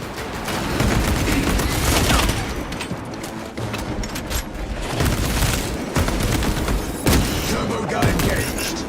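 Dense, heavy gunfire fills a Warhammer 40k Space Marine 2 battle, with sustained loud bursts of rapid shots and booming impacts layered together throughout.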